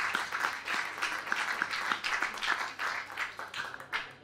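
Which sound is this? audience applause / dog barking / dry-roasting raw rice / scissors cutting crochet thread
audience applause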